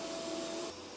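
An ECOVACS DEEBOT T90 PRO OMNI robot vacuum drones steadily on strong suction, a loud whirring hiss with a tonal whine that drops slightly in level near the end.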